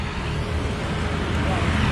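A sugarcane truck passes along a road at night, its broad low engine rumble and tyre roar steady and fairly loud throughout.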